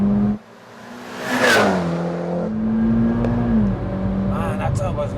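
A turbocharged Mitsubishi Evo X FQ-440 accelerates hard, its engine note climbing through the gears with a clear shift and rising whine, heard from inside the car alongside a voice talking.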